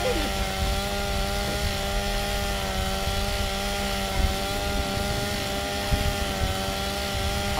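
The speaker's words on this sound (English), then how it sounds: "All I'm hearing is chainsaw sounds" Chainsaw whine in the Gears of War 2 video game, a continuous loud buzzing drone lasting the whole stretch with a few faint thumps and light voice activity underneath.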